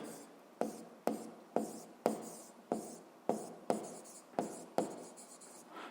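Someone writes by hand on paper: about eleven sharp, evenly spaced pen strokes, each tapering into a brief scratch, close and quiet with no talking.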